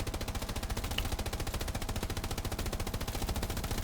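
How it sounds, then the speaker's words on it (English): Tank machine gun in Hell Let Loose firing a long unbroken burst of rapid, evenly spaced shots, loud and close, with no talking. "I got a little machine gun"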